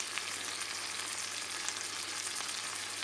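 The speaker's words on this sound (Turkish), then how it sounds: "Evet şöyle hemen bir az bir şey kavrulsun." Frozen green beans frying in a pan, a steady dense sizzle and crackle that stays even and close throughout, with no talk.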